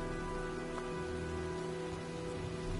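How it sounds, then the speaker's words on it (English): Steady, soft hiss of rain during a storm in the PS4 Pro video game Heavy Rain, continuous and even with no voices. "looks like a storm's coming"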